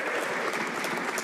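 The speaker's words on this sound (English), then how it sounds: "Hear that applause?" Sustained applause in the House of Commons chamber during a parliamentary sitting, a dense, even patter of many hands clapping at moderate level throughout.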